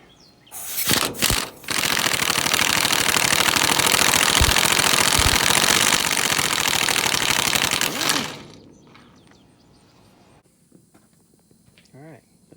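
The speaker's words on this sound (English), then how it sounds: "And now we'll take the bolts off of this side." A loud, continuous impact-wrench-like rattle lasting several seconds as bolts come off a round baler bearing, preceded by a few clanks and followed by quieter clinks and handling noises.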